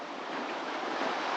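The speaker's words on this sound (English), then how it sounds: "It's been breaking all afternoon," Following ocean waves breaking at sea around a sailboat heading from Monterey to Morro Bay, a steady close hiss and wash of surf with wind noise, loud and continuous, with no talk.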